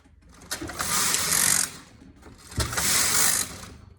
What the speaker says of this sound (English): So now we'll just do a few rows of tuck stitch.